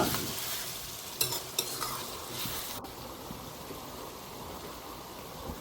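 Stirring turmeric into a spicy egg curry in a pan, with a steady soft scraping and sizzling texture and a few sharper clinks from the spoon early on, close and continuous with no talk.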